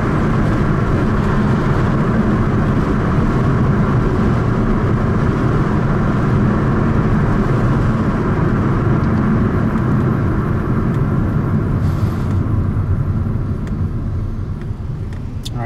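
A 2013 Kia Optima's 2.4-litre engine pulls steadily and loudly under light throttle on a test drive, a continuous broad drone with road and wind noise, no voices over it.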